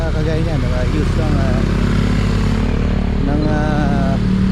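Motorcycle engine running at a roadside police checkpoint in Rizal, Philippines, a steady low rumble heard close under continuous talk from several people.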